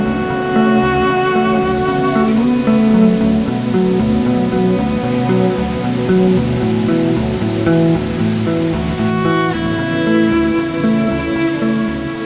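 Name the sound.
roaring waterfall at the foot of Mount Semeru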